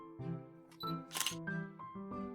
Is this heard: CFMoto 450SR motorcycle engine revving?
no